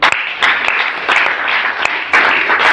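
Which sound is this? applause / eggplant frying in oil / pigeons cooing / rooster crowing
applause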